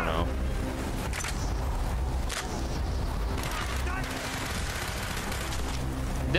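A Russian SMG fires in Call of Duty Black Ops: dense, continuous automatic gunfire with sharp bursts and booms mixed with game effects, loud and busy, with a voice talking over it.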